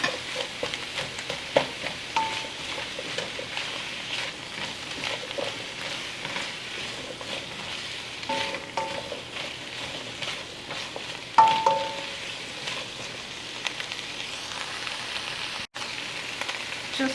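Squash frying in a pan for shrimp vindaloo, a steady close sizzle with occasional stirring scrapes and a brief clatter, no voices.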